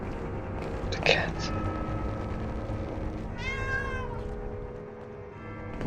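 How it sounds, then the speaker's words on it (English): A cat meows twice in the Doctor Who: The Gunpowder Plot video game, a short call followed by a longer rising-and-falling meow, over a quiet game ambience with faint whispery voices. "The cat."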